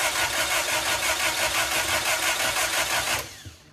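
The engine of an MG TA race car with a supercharger cranks in a loud, even, rhythmic churn up close for about three seconds, then cuts off abruptly without catching.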